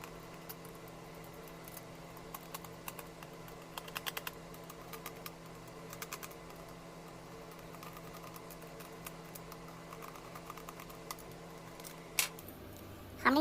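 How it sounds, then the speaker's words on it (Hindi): Small metallic clicks and scrapes from a screwdriver tightening screws on a homemade electric extension board with switches, close and fairly faint, repeating irregularly over a low steady hum, with no talking. "इसकी पेचकस की मदद से हम इनको कस भी देंगे"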